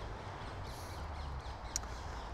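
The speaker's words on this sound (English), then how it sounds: "We're still getting all the bird sounds, even though we're by this busy road." Birds call near a busy road on a Woolwich-to-Falconwood walk in southeast London. A brief crow-like caw rises once over a steady low rumble of passing traffic.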